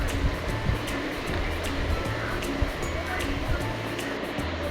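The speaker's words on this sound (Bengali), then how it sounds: "তো এই যে দেখুন ঝোল ফুটে উঠেছে আর মাছগুলোও দিয়ে দিয়েছে।" Fish curry gravy boils in a pot with a steady, close bubbling and hissing simmer that runs throughout, a faint voice mixed in at times.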